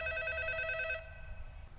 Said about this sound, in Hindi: अभी फोन हमारे रूम में बज रहा है।